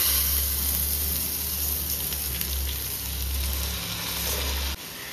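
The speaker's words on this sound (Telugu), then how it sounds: "ఈ రైస్ ఎంత బాగా ఫ్రై అయిందనేది ఇంపార్టెంట్ అనమాట" Rice frying in a pan gives off a steady, even sizzle with no break, over a low hum that cuts out just before the end.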